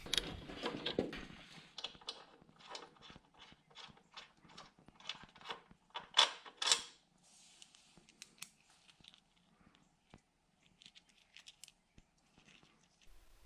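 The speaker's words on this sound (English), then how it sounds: "After I get it started, I'm going to have to hold the other side with the wrench to break it free." A wrench ratchets in quick, even clicking bursts while loosening subframe bolts on a 2003 Honda Shadow 1100 motorcycle, close and fairly quiet, followed by sparser metallic clicks and handling noises.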